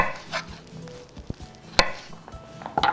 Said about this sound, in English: And then you want to cut it diagonally, like this.